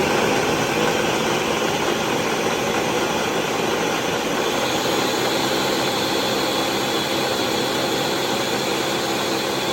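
A kitchen appliance grinds and whirs loudly and continuously, a harsh steady roar with no pauses, as food scraps are pureed for worm composting.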